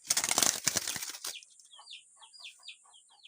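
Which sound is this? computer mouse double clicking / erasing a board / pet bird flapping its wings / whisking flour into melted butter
pet bird flapping its wings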